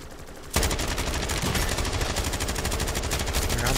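Call of Duty: Modern Warfare 3 Zombies gunfire erupting abruptly into a continuous, loud automatic burst of rapid shots that keeps going without a break, close up, with no voices.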